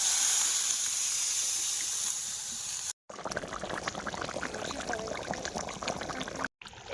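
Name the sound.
water poured into cooking chicken curry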